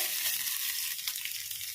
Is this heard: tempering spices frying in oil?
yes